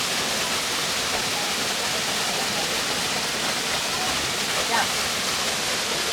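A steady, close roar of falling water from Savri Waterfall, Netravali Wildlife Sanctuary, South Goa, fills the whole stretch evenly, with faint voices barely audible under the rush.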